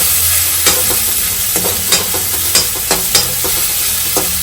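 Ginger and green chili paste frying in a pan gives a loud, steady sizzle, punctuated by sharp spatula scrapes and clicks as it is stirred.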